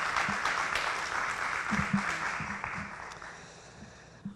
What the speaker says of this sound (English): can we have a round of applause for Jerry Ackerman